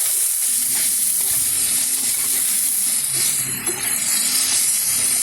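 Chopped onions sizzle and fry in hot oil in a home kitchen while paneer chilli is being made, a steady close hiss with occasional stirring, no talk.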